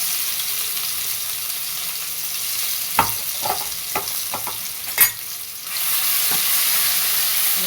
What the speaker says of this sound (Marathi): चांगलं परतून घेऊया चांगला ह्याचा उग्र वास जाईपर्यंत तळून घ्यायचा ह्याला